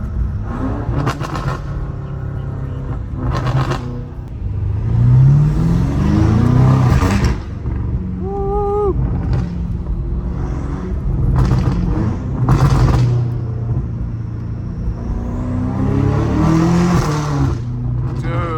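Loud straight-piped BMW M5 Competition engine revving from the driver's seat, repeated surges and roaring accelerations with gear-change dips and crackles, heavy low rumble across the whole stretch.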